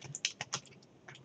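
A few quick, quiet keystrokes tap on a computer keyboard while someone writes code in Roblox Studio, clicking in a short uneven burst with no talking.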